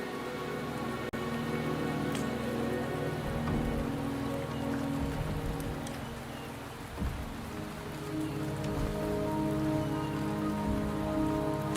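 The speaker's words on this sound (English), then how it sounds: "The rain is subsiding, and the sky will soon clear." Steady rain in the video game Wuthering Waves, a dense continuous patter of drops on surfaces that holds evenly throughout with no speech over it.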